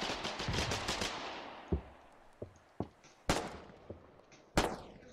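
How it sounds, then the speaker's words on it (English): Gunfire in the war game Foxhole opens with a rapid automatic burst, then settles into scattered single shots, sharp and loud, with echoing tails and no talk. "Stop shooting!"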